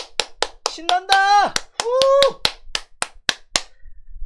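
Hands clap in a quick, steady rhythm, sharp and close, while a voice shouts cheerful exclamations over the middle of the clapping, as a morning broadcast starts.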